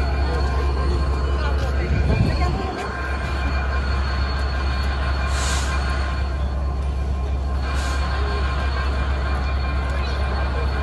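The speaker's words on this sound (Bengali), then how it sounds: "প্ল্যাটফর্ম নম্বর 2-এ দাঁড়াইছে আমাদের ট্রেনটা।" Sundarban Express passenger train standing at platform 2 of a station on the Chuadanga to Jashore route, a steady low rumble of the idling train with a brief louder clank early on, and faint voices nearby.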